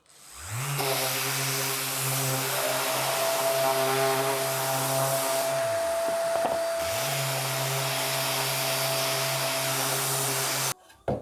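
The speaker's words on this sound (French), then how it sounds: "je vais faire un petit coup de ponçage avant de décoller" A power sander works wood before gluing, giving a loud steady whine that stops briefly in the middle, restarts and runs on before cutting off at the end.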